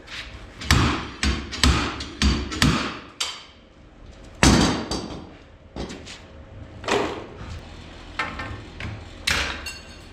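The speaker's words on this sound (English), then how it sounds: "when I used the slide hammer to remove the wheel hub" Heavy metallic impacts bang in irregular bursts as a slide hammer pulls a rear wheel hub off a BMW E46, several rapid clanks followed by single loud slams with short pauses between them.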